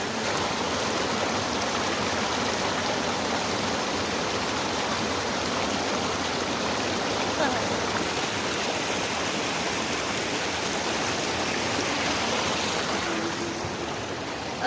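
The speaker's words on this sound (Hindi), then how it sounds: "कितना सारा पानी आ रहा है इसमें, और पानी थोड़ा गंदा गंदा है अभी।" Steady broadband rush of a river running high with muddy water on a sunny day, a continuous close wash that stays loud and even throughout with no voices.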